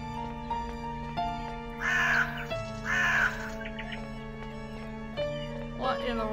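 Crows caw in the horror game The Nanny, two or three harsh raspy calls over quiet eerie background music, with a fainter call near the end.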